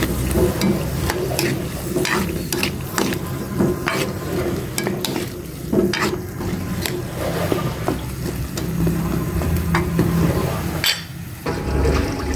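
Squash sizzles and is stirred in a hot pan, a continuous frying crackle with repeated scraping and clattering strokes of a utensil, close and steady.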